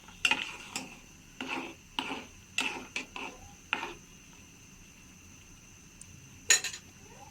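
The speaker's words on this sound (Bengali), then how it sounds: "একটু নেড়ে দিব।" Broken rice cooking in a pot is stirred with a utensil, producing a series of sharp scraping knocks and clinks against the pot at an irregular rhythm, close and fairly quiet.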